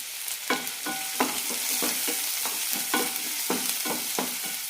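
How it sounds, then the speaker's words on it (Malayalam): Small onions sauté in hot oil with a continuous crackling sizzle, broken up by regular stirring scrapes of a spoon against the pan, with no talking. "ചെറിയ ഉള്ളി മാത്രം മതി. നന്നായി വഴറ്റിയെടുക്കാം"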